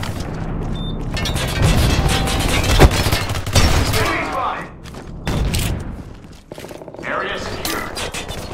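Grenade blast amid sustained gunfire in the first-person shooter game Ballistic Overkill, heard as dense, loud, continuous shooting with a sharp boom near the middle and voices calling out over the noise.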